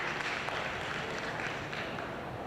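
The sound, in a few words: traveling fans applauding substituted players at soccer match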